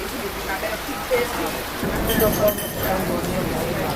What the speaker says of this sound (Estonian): Jõhker torm on ümber ikka. Korralikult müriseb.